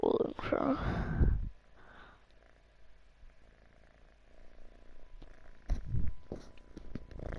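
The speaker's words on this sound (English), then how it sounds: "Listen to my cat meowing while purring." A cat purrs in a low, steady rumble at close range, broken by a couple of louder meows near the start and end.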